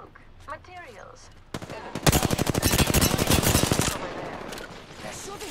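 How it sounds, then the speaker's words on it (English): Rapid automatic gunfire in the Apex Legends video game, a loud dense burst of close shots lasting about two seconds, preceded by a single sharper shot and soft voice sounds, then tailing off into quieter game ambience. "They're shooting at me. Reloading. The enemies are shooting at me."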